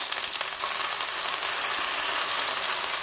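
Camargue bull steak sears in a hot pan with a steady, close, loud sizzle and hiss of frying that runs unbroken throughout, with a few brief crackles near the start.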